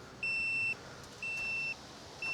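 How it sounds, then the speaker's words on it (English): An onboard air compressor timer on a 4x4 off-road rig sounds three steady electronic beeps, each about half a second long, evenly spaced about a second apart over a faint background hum. "This thing will beep at you until you turn it off."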